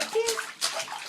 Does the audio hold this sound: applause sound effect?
no